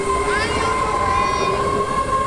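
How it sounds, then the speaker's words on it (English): Train running in the NIMBY Rails game, a steady loud rolling hum with sustained tonal whine and a brief rising squeal, continuous throughout. "This train is bound for Kansas City."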